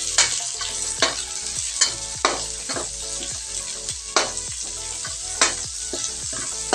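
Onions frying in a pan for chicken adobo, a steady sizzle broken by regular sharp stirring scrapes roughly every second, close and without speech.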